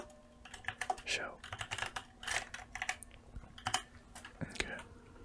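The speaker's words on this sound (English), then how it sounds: "I saved a lot of typing there" Quiet, close computer keyboard typing during an ASMR coding session, irregular bursts of soft key clicks and taps with short pauses, alongside faint whispered speech.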